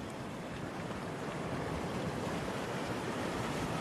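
Sea surf rolls steadily onto a rocky shore in Northern Samar at sunset, a continuous broadband wash with some wind noise on the microphone and no talk.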